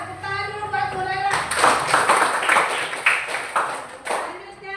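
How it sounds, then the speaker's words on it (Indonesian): A group of people bursts into applause at an indoor talk or school event, a dense burst of clapping lasting a few seconds right after a speaking voice, then tapering off. "Ya, tepuk tangan dulu buat Bu Laila."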